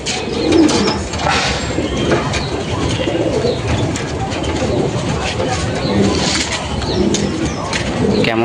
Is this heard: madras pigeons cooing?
yes